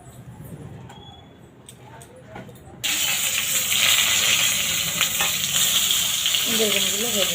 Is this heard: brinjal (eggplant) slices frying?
yes